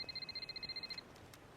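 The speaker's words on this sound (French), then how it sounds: "pardon, c'est mon téléphone." A mobile phone gives a fast, faint pulsing electronic trill for about a second, then stops, leaving only quiet room noise.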